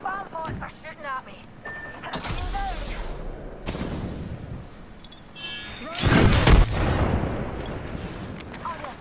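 Bomb pods firing in a shooter game, sharp bursts and crackling impacts in short clusters, loudest near the end, with players talking over the action.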